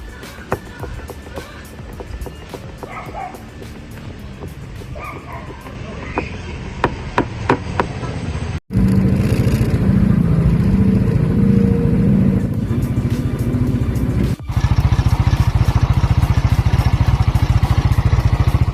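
A running Rusi Adventure X 150i motorcycle engine with a steady loud rumble and a persistent metallic bushing rattle, the revs rising in the latter half.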